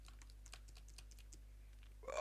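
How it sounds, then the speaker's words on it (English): Computer keyboard keys clicking in quick irregular bursts as the keyboard is cleaned, close and fairly faint over a low steady hum, with a brief louder rustle at the end. "You were cleaning your keyboard?"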